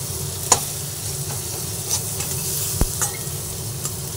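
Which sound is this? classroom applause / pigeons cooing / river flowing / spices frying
spices frying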